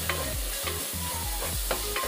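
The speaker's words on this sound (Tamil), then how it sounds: "நல்லா பச்சை வாசம் போல வதக்கணுங்க" Small shallots frying for an anchovy fish curry crackle steadily in a pan, close up, while a spoon stirs them in a slow, uneven rhythm of scraping strokes; nobody speaks.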